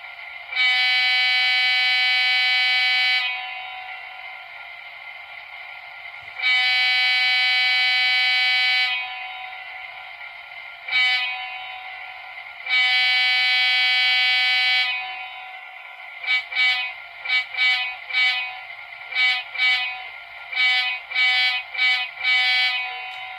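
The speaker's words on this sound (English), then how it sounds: "And function 2 is the horn." The horn of an Atlas EMD GP7 HO-scale model locomotive sound decoder sounds in three long blasts, with a quick toot between them, then a run of short choppy toots. It is clear and alone, with no talk.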